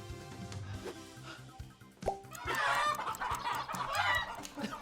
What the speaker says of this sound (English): Chicken! I have to get you in the pen!